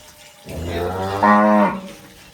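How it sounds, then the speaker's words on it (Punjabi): A mini dairy cow on a farm in Pakistan gives one loud, drawn-out moo that swells and rises in pitch near its end, close by and alone against quiet background. "ਇਹ ਮਿਨੀ ਗਾਂ ਹੈ"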